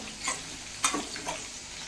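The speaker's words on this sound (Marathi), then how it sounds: "मिरची आता परतली गेली म्हणजे तळली गेली मिरची" Green chillies frying in a pan with salt, giving a faint, quiet sizzle with a few soft stirring scrapes and brief bursts, no voices.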